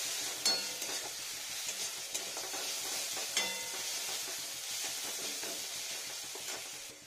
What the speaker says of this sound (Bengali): সব ভাজবো এবার।